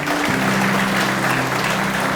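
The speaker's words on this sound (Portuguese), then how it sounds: "Vamos aplaudir Jesus?" A church congregation claps together in a dense, steady wash of applause that keeps going the whole time, with a low hum running beneath it.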